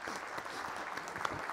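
Brief applause from the audience at a university first-year pledge and oath-taking ceremony, a short burst of scattered clapping, moderately faint and fairly even, with no talking over it.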